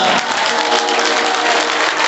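Dense, loud applause from an audience at a Hindu religious discourse during a Navratri gathering at a temple; steady, continuous clapping fills the whole stretch with no break.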